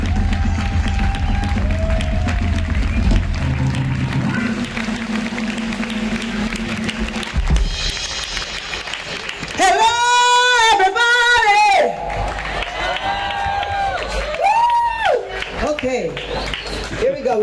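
A live blues-club audience applauds and cheers as a singer is welcomed on stage, with whoops and shouts rising in the middle and people talking over the crowd noise.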